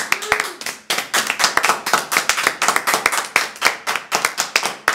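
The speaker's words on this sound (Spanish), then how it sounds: "Un aplauso para Carlos." A small group of people clap steadily for Carlos in an informal setting, a dense run of sharp hand claps filling the moment at close range, with one short tone early on.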